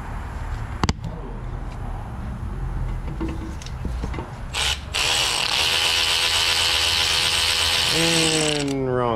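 A ratchet and socket tighten a new brake caliper bolt on the brake hose fitting with fresh crush washers. Close, quick clicking comes first, then a steady, louder mechanical grind and whir, ending in a short rising whine.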